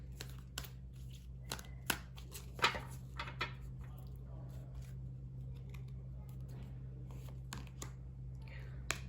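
Angel guidance oracle cards being shuffled and drawn by hand, giving quiet, irregular papery flicks and snaps against a steady low room hum.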